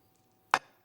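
A knife cuts through the skin of a raw whole chicken at the wing. It makes a single sharp, close chop-like snap after near silence.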